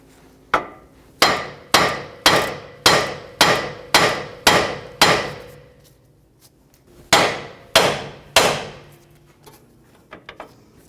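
A hammer strikes the steering knuckle of a 2011-2017 Honda Odyssey to pop the tie rod loose: about a dozen sharp, ringing metallic blows in a quick steady rhythm, a short pause, then several more close blows.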